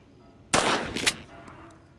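A short burst of gunshots fired through a hole in the floor, one loud sharp volley followed by a second crack and fainter echoing pops, alone with no talk.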